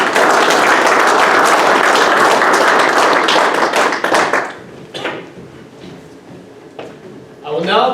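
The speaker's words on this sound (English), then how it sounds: "Let's give one more round of applause." Dense applause from a graduation audience at a military class ceremony rolls on loudly for about four seconds, then thins into scattered claps and low murmur before a brief burst of sound near the end; speech is audible.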